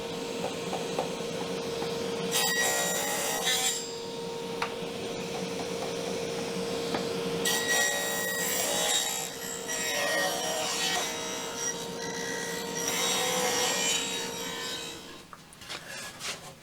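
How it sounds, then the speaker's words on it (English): Wooden boards fed through a saw to cut a bevel along one edge, a steady close whine of the blade with rougher bursts of cutting noise as each board passes through, then winding down, with no talk. "I'm going to put a bevel on one side only on each board."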